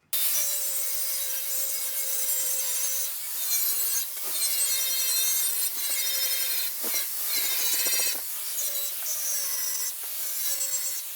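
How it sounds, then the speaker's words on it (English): An 80 grit soft sanding disc passes lightly over a 1962 Cadillac Series 60 Fleetwood fender skirt, giving a close, high whirring power-tool whine with scraping surges and short dips as the disc lifts and bites. "we're going to take very lightly past a soft disc over it, the 80 grit, and just see what comes off"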